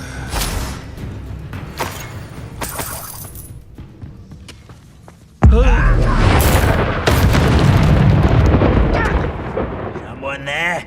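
A Bombarda explosion spell detonates in Hogwarts Legacy, a sudden loud boom that breaks in midway with crashing, shattering debris and sustained rumble, after a stretch of fainter clashing spell effects and brief voices.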